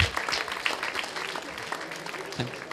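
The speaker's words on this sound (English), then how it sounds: "Let's give a good round of applause." A tech conference audience at a developer event gives a short round of applause, a busy patter of clapping that stays fairly steady and fades slightly over a few seconds.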